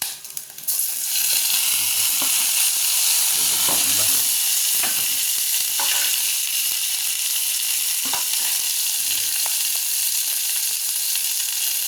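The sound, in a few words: sautéing onions with leaves in a pan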